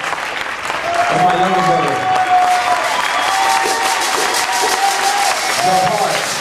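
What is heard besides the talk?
audience applause at a concert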